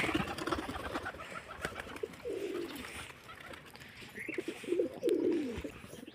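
Pigeons coo nearby in soft, throaty rolling calls, several bursts repeating over a quiet outdoor background with faint rustling.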